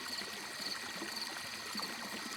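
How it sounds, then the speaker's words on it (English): Water trickling and flowing steadily somewhere inside a creepy old house, a continuous soft wash with faint bubbling detail and no voices. "Where is the water coming from?"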